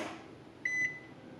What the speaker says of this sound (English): that plugs in just like that, and then it makes a little beep beep when it comes out and on